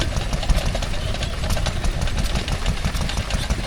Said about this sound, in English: They're not the easiest things to get going in the morning, the old stationary engines.